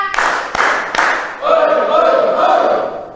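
A classroom of pupils claps three sharp, unison beats in quick succession, then breaks into a loud, sustained group shout.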